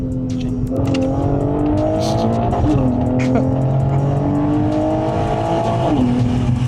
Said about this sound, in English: So we're getting ready to do a pull here, see what we got.